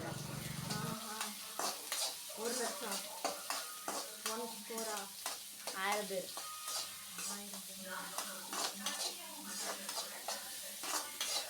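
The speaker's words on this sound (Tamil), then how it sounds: "கட் பண்ண வெங்காயம் பச்சை மிளகாய் கருவேப்பிலை இதையும் போட்டு நல்லா வந்து வணக்கிறாங்க" Onions, green chillies and curry leaves sauté in a pan for tomato kulambu, a steady sizzle under repeated stirring and scraping with a few clinks of utensils against the pot, continuous and close.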